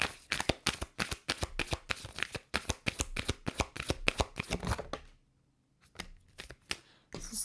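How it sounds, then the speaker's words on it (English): Tarot cards are shuffled by hand in a rapid run of crisp, close riffling flicks for about five seconds. After a short quiet pause, a few softer card sounds follow. "One more shuffle."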